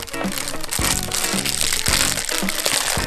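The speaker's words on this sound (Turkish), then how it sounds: "İki poşet açacağım." Loud crinkling and crackling of a plastic toy packet from an LOL Surprise makeup toy set being torn open close by, with rough tearing bursts throughout.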